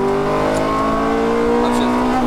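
Ferrari F430 engine at full throttle on a track, heard from inside the car: a loud, steady, high-pitched engine drone rising slightly in pitch over a couple of seconds.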